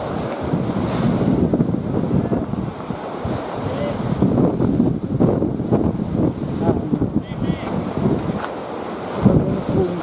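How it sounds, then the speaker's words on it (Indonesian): Strong wind roars across the summit of Mount Lawu in a steady, loud rush with gusty swells and buffeting on the microphone, lasting throughout. "Anginnya cukup kencang."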